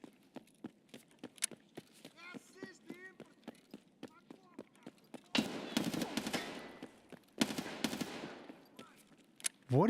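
Rapid gunfire bursts crack in the video game Escape From Tarkov, with quick regular shots early on and louder, denser volleys later, while a voice talks in between.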